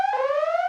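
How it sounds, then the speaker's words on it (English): A loud electronic alarm tone sounds in one sustained, slightly rising buzzy note, close and alone, with no talk over it. "Alarm."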